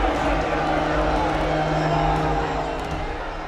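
Agitated crowd in a Bible film, many voices shouting and clamoring at once in a steady, dense roar that holds loud throughout with no single voice standing out.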